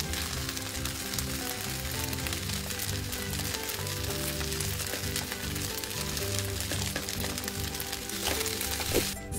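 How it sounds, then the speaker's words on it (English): Polenta mini pizzas fry in a little oil, giving a dense, even crackling sizzle that fills the whole stretch, loud and close, with no voices. "So once you've fried them up in a little bit of oil"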